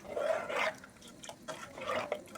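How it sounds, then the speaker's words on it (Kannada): Water is poured from a glass into a cooking pot for rice, heard as two short splashing gushes with soft trickles between, faint and close with no talking. "ನಾಲ್ಕು ಗ್ಲಾಸ್ ನೀರು ಹಾಕೋತಾ ಇದ್ದೀನಿ"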